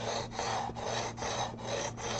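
A sanding block rubs back and forth over guitar frets near the 12th fret, six even rasping strokes in a steady rhythm, close and moderately loud with no speech.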